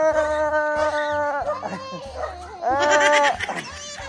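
Several dogs bark and yip in an outdoor Philippine setting near pigs, giving loud overlapping close barks and whining cries, with people's voices mixed in.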